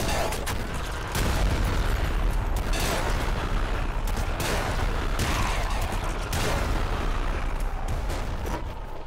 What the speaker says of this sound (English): Those explosions with no boiling veins are kinda scary.